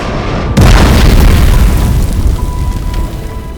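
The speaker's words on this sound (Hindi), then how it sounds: "जोरदार धमाका हुआ" Massive explosion from an Air India Flight 171 plane crash into a hostel building: a sudden very loud boom followed by a sustained heavy rumbling roar that slowly fades.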